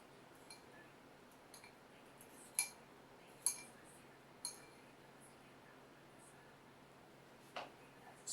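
Sparse light clinks of a utensil against a dish as microwaved eggs get broken up, a handful of isolated taps spaced a second or so apart over a quiet background.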